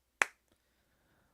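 One sharp hand clap rings out alone in a quiet room during a livestream lag check, with a short decay and a faint tiny click shortly after.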